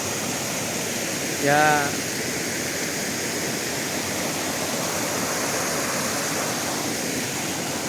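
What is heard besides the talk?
strong river current at the spring source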